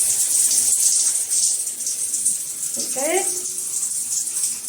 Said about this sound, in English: we've got the shower here. So we're going to take a look at this pressure